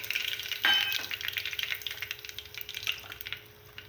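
Curry leaves and a bay leaf drop into oil already frying cinnamon and cloves, setting off a sudden crackling spurt that settles into a steady sizzle. There is a faint metallic clink and no talking.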